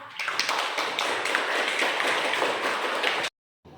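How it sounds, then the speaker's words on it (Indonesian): A classroom full of students applauds two presenting groups, a dense burst of close, rapid hand clapping that holds steady before cutting off abruptly near the end. "Jadi kita berikan tepuk tangan untuk kelompok 1 dan kelompok 4."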